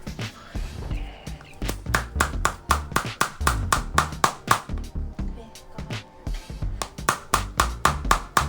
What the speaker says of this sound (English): let's clap so I can